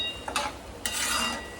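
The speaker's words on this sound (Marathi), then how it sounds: "आता ह्याला चांगलं परतून घेऊया." Rice with turmeric and salt stirred in a pan, with two quick scraping sweeps of a spoon against the pan over a soft continuous sizzle.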